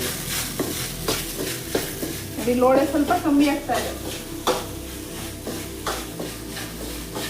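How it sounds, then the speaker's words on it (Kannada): Okra stir-fry stirred continuously in a frying pan for chapati, with steady sizzling and scraping of a spatula against the pan, and a speaking voice over the cooking. "ಕೈ ಬಿಡದೇನೆ ತಿರುಗಿಸ್ಕೊತಾನೆ ಇರಬೇಕು"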